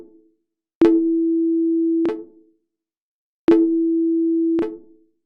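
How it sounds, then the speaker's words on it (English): A pure sine tone from a synthesizer oscillator sounds twice, each note held for over a second with a click at its start and end. The dry signal and a reverb-wet copy play together, and each tone fades into a short tail. "we have a sine wave, and we would like to play both the wet and dry signal at the same time"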